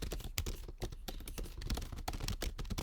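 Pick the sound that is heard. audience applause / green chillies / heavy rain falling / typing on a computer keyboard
typing on a computer keyboard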